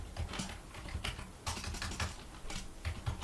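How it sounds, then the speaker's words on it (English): A computer keyboard clacks in quick, uneven bursts of keystrokes, close and fairly quiet, with no voice present. "I'm going to quickly type database connection string"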